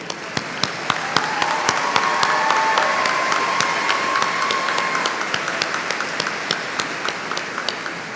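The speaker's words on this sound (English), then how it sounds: "Let us give a round of applause to recognize each member before you" A crowd at a high school graduation for the class of 2018 applauds the graduates, a thick, continuous roar of clapping with a few sharper, nearer claps standing out above the rest.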